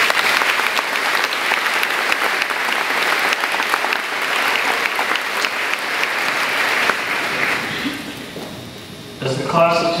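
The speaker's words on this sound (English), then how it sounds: "Let's give our teachers a round of applause" An audience at a second-grade graduation gives sustained applause for the teachers, loud and even for about eight seconds before it thins out; a voice begins speaking at the very end.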